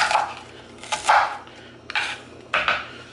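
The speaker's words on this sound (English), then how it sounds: "if my knife is clunking a little bit, I'm sorry" A dull kitchen knife chops a sweet onion on a cutting board in a few spaced, close, clunking strikes with brief pauses between them.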